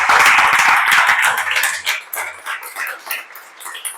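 Congregation clapping together during a church service, a dense, loud burst of applause that fades into scattered, thinning claps.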